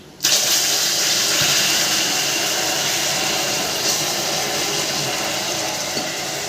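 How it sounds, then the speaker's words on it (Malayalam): Water is poured into melted sugar that has turned brown in a pan, setting off a sudden loud, sustained sizzling hiss that stays strong and steady for several seconds. "അത് നമുക്ക് ഇത്തിരി വെള്ളം ഒഴിക്കാം."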